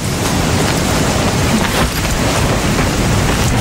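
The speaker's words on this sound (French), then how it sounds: "Ah, une averse de chaleur." A sudden warm summer rain shower, heard as a steady, dense wash of broadband patter and hiss that holds at an even, fairly loud level throughout with no voices.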